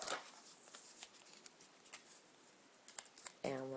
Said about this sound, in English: all that needs is a little folding around and just a little tape right there